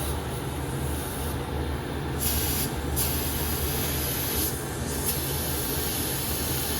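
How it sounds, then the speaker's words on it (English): Steady broad hiss of air escaping from a tyre valve as pressure is let down, continuous and fairly loud throughout with brief brighter bursts, no talking. "I'm just going to take a bit of pressure out of the tyre"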